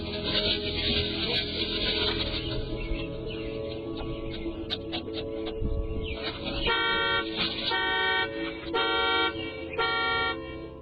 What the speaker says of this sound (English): their swift actions are abruptly interrupted by the blaring car alarm